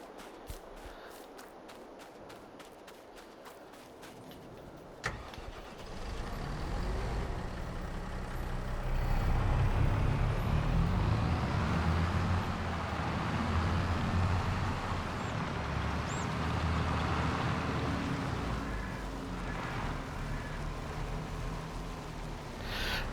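A tractor in Farming Simulator 22 on PS5 starts up and drives, its low engine rumble building into a steady, loud drone with rising and falling revs and light clicks early on.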